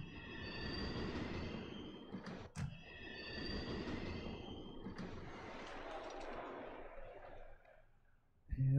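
Subway train in the city-building game SimCity 3000, a steady low rumble with high metallic wheel squeals that rise twice, a sharp click between them, then a fade near the end.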